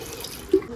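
Water pours into a pressure cooker holding potatoes for boiling with salt, a soft tap-like trickle with two brief splashy surges near the end of the short clip.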